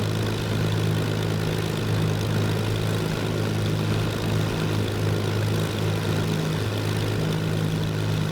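Supermarine Spitfire Mk I taxiing in Microsoft Flight Simulator, its piston engine droning at a steady low idle with a constant propeller hum, close and unbroken.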